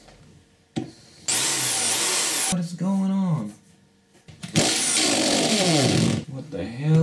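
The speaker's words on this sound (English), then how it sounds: "I gotta drill right into my disc." A power drill boring into a disc: two loud, harsh whining bursts of drilling separated by a pause, with a voice speaking between and over them.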